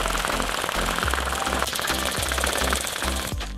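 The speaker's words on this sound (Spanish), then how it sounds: "Y ahora vamos a cerrarlo y batimos muy fuerte" A cocktail shaker holding a Jägermeister cocktail and ice is shaken hard, giving a loud, fast, rhythmic rattle of pulses that runs for a few seconds on its own.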